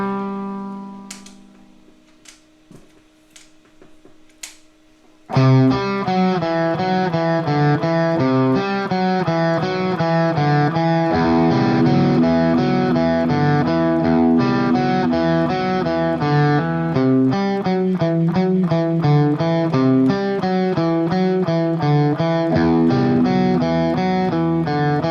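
Electric guitar with extra gain playing a riff: a few clean plucked notes, then a loud, driven, rhythmic distorted riff of chugging chords and repeated notes that continues steadily to the end.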